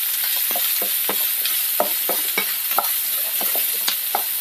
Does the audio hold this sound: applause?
no